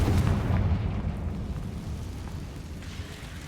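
A booming Confringo spell blast in the video game Hogwarts Legacy, a heavy low explosion at the start that rumbles and fades over a few seconds, with no voices.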